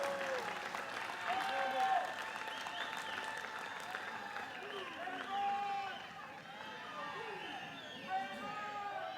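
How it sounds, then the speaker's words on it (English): Commencement audience applauding parents and significant others, a fairly quiet, sustained patter of clapping in a large hall, mixed with voices calling out and cheering. "give your parents and significant others a round of applause for their counsel, many forms of support"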